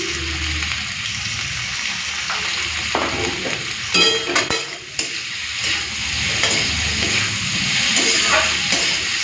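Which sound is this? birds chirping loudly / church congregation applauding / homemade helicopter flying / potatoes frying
potatoes frying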